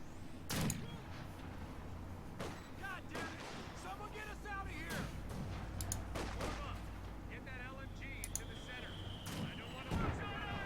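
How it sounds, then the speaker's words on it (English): Mortar fire in Company of Heroes 2 thumps out as several sharp, spaced booms over a rumbling battlefield, with a voice talking over the action. "Mortars are firing."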